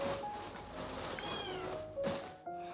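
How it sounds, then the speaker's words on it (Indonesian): A cat meows a few times outside a bedroom door, wanting in, drawn-out and plaintive, heard indoors and fairly faint, with a short louder call near the end. "Itu suara Luna ngeong-ngeong mau masuk ke dalam kamar"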